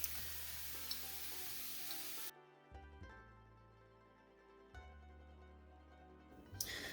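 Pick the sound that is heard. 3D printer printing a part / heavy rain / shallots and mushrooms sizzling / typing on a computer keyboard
shallots and mushrooms sizzling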